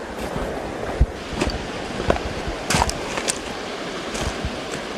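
A California creek runs over bedrock with a steady rushing wash, broken by scattered splashes and brief knocks.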